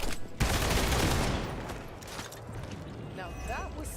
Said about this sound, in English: So we'll get the shot off here.